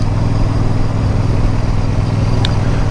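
A special edition motorcycle with an uprated exhaust system runs with a steady, throaty low rumble, close and continuous, with a brief faint tick near the end.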